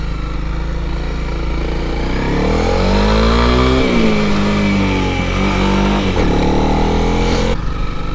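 A Honda CRF300L dual-sport motorcycle rides close by, its single-cylinder engine droning, then rising and dipping in revs as it hops a curb, staying loud throughout.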